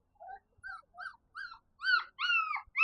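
Five-week-old Heidi x Catcher puppies whimpering outdoors, a series of thin, high, rising whines and yips in short bursts growing louder and longer, heard close and alone.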